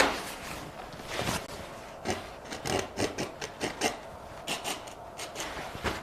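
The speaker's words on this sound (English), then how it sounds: "gotta scrape some little twigs over there" Palette knife scraping through wet oil paint on canvas to form small twigs in a mountain stream landscape, a series of short rasping strokes, some single and some in quick clusters, close and moderately loud with no talking.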